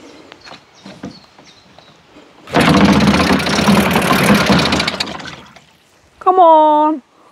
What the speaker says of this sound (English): I love this engine.